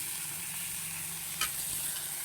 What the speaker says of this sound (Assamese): এনেকৈ ধুনীয়াকৈ ভাজি অকণমান ঢাকন লগাই দিম